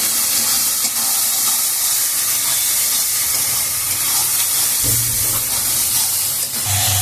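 Cumin and chilli paste sizzle in a hot pan with spices for a mutton curry, a dense, steady hiss that runs unbroken throughout with no voices.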